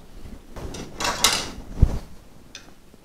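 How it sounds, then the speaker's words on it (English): The tension assembly on a longarm quilting machine is pulled outward, making a short close sliding scrape with a knock, like a drawer being drawn open, with no talk. "Now we're going to pull the assembly out enough that we can get in and tighten up the set screw."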